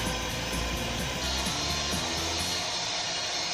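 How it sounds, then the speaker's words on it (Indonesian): An electric hand mixer beating botterkoek batter in a bowl, a steady droning motor whir with a rhythmic wobbling pulse, close and continuous, fading slightly toward the end. "Namun tetap saja di mixer sampai teksturnya benar-benar lembut"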